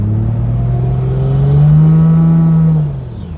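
A 1JZ engine swapped into a Fox body Mustang revs at part throttle, its loud, close drone climbing steadily in pitch before easing off near the end, with no voices.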